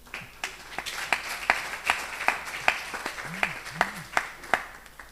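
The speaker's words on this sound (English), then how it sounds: "A round of applause to the team." Audience clapping for a team at a Petroleum Authority of Uganda event: steady, distinct claps at an even pace, fairly close, with a few brief tonal chirps in the room and no talk.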